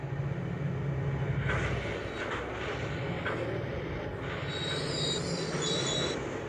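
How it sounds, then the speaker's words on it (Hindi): A WDM 3A diesel locomotive pulls away in Trainz Simulator, a steady loud engine rumble with rolling wheels and faint high squeals throughout, and no one talking. "अब गाइस मैं ट्रेन को आगे बढ़ाता हूँ"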